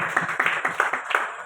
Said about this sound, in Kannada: ಗುಡ್ ಚಪ್ಪಾಳೆ ತಟ್ಟಬೇಕು.